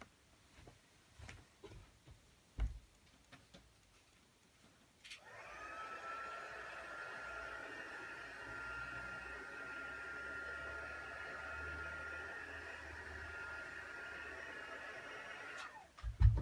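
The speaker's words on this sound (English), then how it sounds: "if I just get my heat tool and heat it" A craft heat gun blows on inked ribbon with a steady, even whirring hiss that runs for about ten seconds and then cuts off, after a few quiet handling knocks and clicks.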